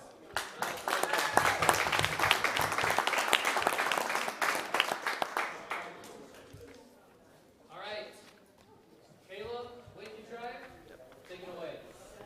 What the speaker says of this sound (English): Let's first give one more round of applause to Chris.